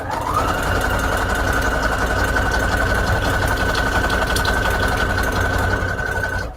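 A sewing machine stitches junk journal signatures into a Little Golden Book cover, making a continuous close, loud motor whir with a rapid needle rhythm for several seconds. It cuts off abruptly at the end.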